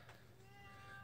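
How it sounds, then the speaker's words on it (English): A house cat meows faintly in the background, one drawn-out cry under a steady low room hum. "Sorry if you can hear my cats in the background."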